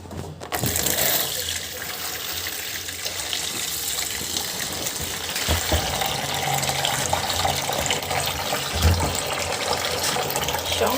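Tap water gushes steadily for about ten seconds to soak a large catla fish, a loud continuous splashing stream with no talk over it.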